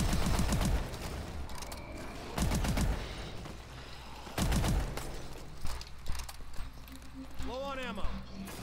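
Several heavy S12 shotgun blasts boom out in Call of Duty Advanced Warfare's Exo Zombies mode, spaced roughly one to two seconds apart, loud and close, with game noise and a player talking around them.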